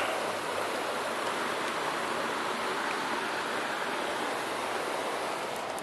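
Steady broadband rush of water flowing down the Purgatoire River near Trinidad, Colorado, continuous and fairly close with no pauses or talk.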